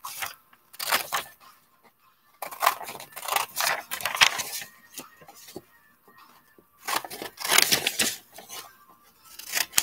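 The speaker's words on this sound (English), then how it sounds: "then once you do that, then you just cut around" Scissors snip and crunch through paper along dotted lines for a cube craft, in several short bursts of rapid cutting separated by quiet pauses, close up with no talk.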